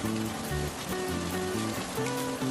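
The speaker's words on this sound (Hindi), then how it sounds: "बारिश अभी भी हल्की फुल्की हो रही है।" Light rain falls steadily near a village gathering spot, a continuous soft patter under a sustained tonal music bed, with no voices.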